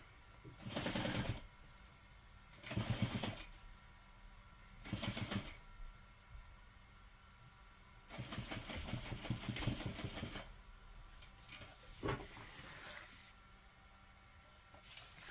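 A sewing machine stitches a zipper in several short runs separated by pauses, each burst a rapid mechanical whir at close range.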